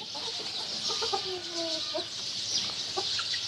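Chickens and white chicks clucking and peeping in a poultry pen, a steady chorus of high cheeping with a few louder clucks and short calls, fairly close and continuous.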